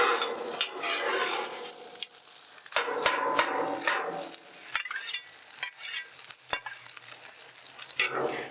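Pork fried rice with egg and soy is stirred and sizzles on a Blackstone flattop griddle: steady frying hiss broken by sharp metal spatula scrapes and clacks against the hot surface, with no talking.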